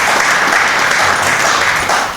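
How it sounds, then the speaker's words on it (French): A church congregation applauding, a dense, loud, continuous wash of many hands clapping close by for the whole stretch. "Let's give a hand for our God."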